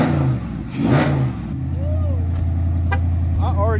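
A car engine cranks, catches and idles with a steady low hum, heard close by with its hood open, while people talk over it.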